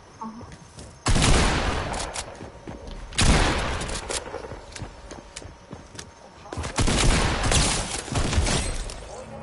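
Gunfire sound effects from a video game trailer, sharp bursts of rapid shots and impacts with sustained noisy tails, loud and dramatic, with faint talk underneath.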